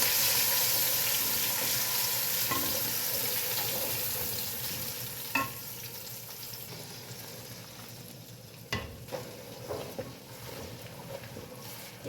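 Masala paste frying in a pan for chicken wings pulao, a steady close sizzle that fades slowly with a few sharp stirring clinks and scrapes toward the end; no talking.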